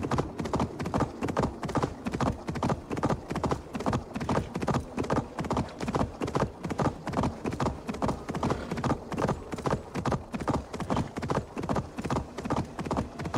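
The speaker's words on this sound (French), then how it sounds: "Allez, galop, galop, galop, galop." Horse galloping in the Assassin's Creed Valhalla video game, a steady fast clip-clop of hooves repeating loudly and continuously throughout, with a faint whinny.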